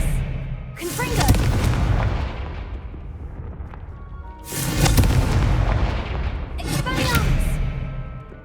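A Confringo spell explosion in Hogwarts Legacy: three heavy booming blasts with crackling debris tails, one at the start and two close together later, over a continuous low rumble, with a voice calling out.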